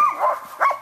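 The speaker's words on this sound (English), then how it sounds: "Don't be barking." A dog gives two or three close, sharp barks with whiny, yelping tones, separated by short pauses.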